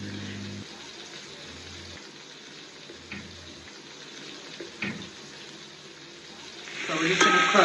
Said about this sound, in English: So we're just gonna cook half at a time in that fat.